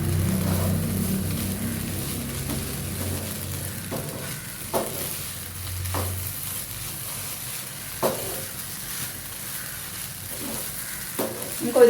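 Oats upma being stirred in a pan over a high flame, with a steady sizzle and periodic scraping clacks of the spoon against the pan.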